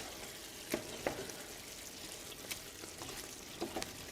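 A pan of cream sauce with Parmesan cheese stirred in over low heat gives a soft, steady simmering hiss, with a few faint spoon scrapes and taps against the pan.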